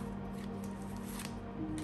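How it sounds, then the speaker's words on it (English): Tarot cards shuffled by hand, a soft, steady papery riffling at low volume throughout, with no talk. "they're asking me to shuffle more"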